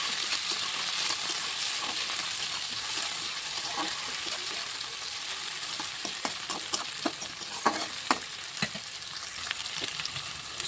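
Tomato with ginger, garlic, onion and spices fries in a pan, a constant loud sizzling hiss with scattered sharp clicks and scrapes of stirring, growing busier toward the end.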